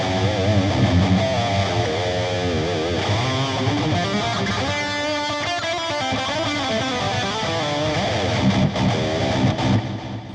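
A heavily distorted electric guitar plays a metal tone through a BOSS GX-100 digital pedalboard with reverb and delay, loud, dense and sustained riffing with no voices.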